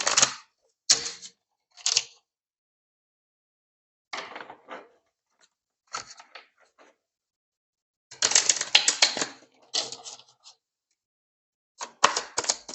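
Tarot cards shuffled and drawn by hand for a reading, heard as a series of short, close, crisp riffling and snapping bursts separated by quiet pauses.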